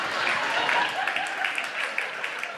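Audience applause at a live stand-up comedy show, a steady wash of clapping heard from across the room, with the texture holding at a moderate level and a few sharper claps poking through.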